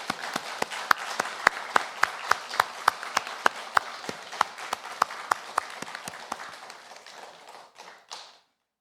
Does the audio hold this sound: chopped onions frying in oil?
no